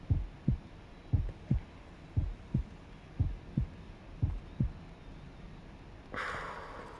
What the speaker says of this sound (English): Ooh, I hate the heartbeat.